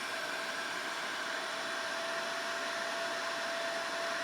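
A portable carpet and upholstery spot cleaner runs with a steady, even motor whine and airy rush, close and unchanging throughout, with no voices.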